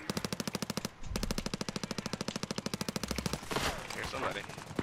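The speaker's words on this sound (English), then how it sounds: "Someone shooting at us?" Rapid automatic gunfire in the video game Warzone, a steady rattling stream of close, loud shots that breaks off briefly and resumes, then gives way to a noisier burst at the end.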